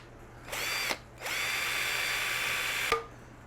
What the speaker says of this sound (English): So let me drill a hole real quick.